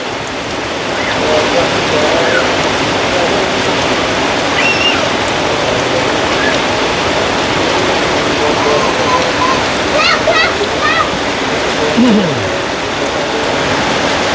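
Heavy rain pours steadily and loudly throughout, a dense unbroken hiss, with faint voices and a few brief chirps in the background.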